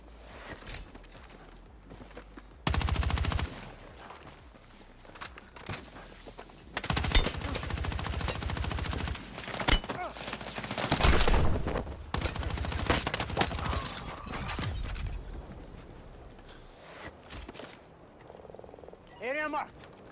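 Gunfire in the Battlefield 6 video game, bursts of rapid automatic shots and scattered single cracks at varying distances, with a voice speaking at times between the bursts.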